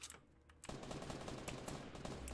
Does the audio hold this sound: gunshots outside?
yes